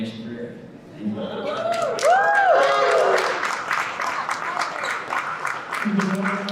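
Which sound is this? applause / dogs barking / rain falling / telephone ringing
applause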